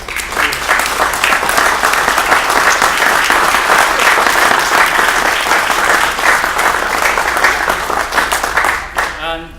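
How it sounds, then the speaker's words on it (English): Audience applause at an architecture book-signing event, loud sustained clapping from a large crowd for about nine seconds before it fades, with a voice starting to speak at the end. "wanted to have a round of applause"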